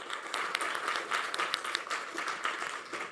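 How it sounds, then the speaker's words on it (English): An audience at a clinical research conference gives a short burst of steady, fairly loud applause from many hands clapping at once, with no voices on top. "maybe we could just give you an extra round of applause saying thank you for coming"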